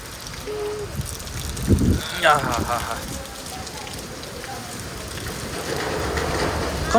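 Constant heavy rain hiss in Rajkot, India, with wind rumbling underneath, plus a few brief voices and knocks in the first half.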